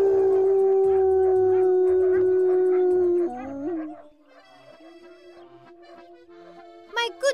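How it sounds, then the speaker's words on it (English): A pack of animated cartoon dogs howls together in long, loud, wavering tones, then breaks into scattered yips and barks, with a sharp bark burst near the end. "Listen to all that noise! It's an abomination!"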